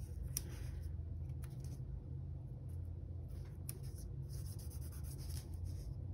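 Paper being trimmed with scissors for a planner page, close and quiet, with a few crisp snips over steady rubbing and scratching of paper on the desk.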